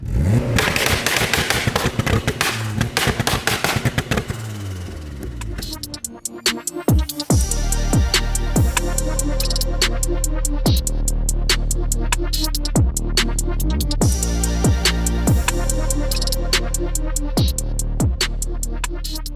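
A turbocharged VTEC-engined Mini revs hard and repeatedly, with loud crackles and pops from the exhaust between surges, close and aggressive.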